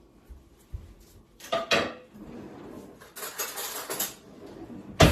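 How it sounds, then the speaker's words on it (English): A metal spoon picked out from among kitchen utensils: light clinks and a couple of louder clatters of metal knocking together, close and sparse, with soft handling in between. "Now, let me grab a spoon."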